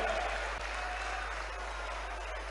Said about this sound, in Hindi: तालियां एक बार जोरदार माननीय मुख्यमंत्री जी के लिए।